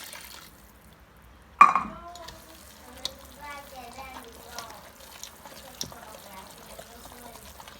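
Water poured from a container into cornmeal batter for Bajan conkies in a home kitchen, a short splashing pour near the start followed by faint stirring and clinks under talk.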